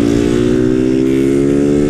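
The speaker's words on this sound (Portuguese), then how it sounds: "esse escape realmente, mano, ele tem um barulho diferente mesmo" A Honda Titan 160 motorcycle with an open exhaust and no air filter revs loudly and close up, a steady throaty engine drone with no break.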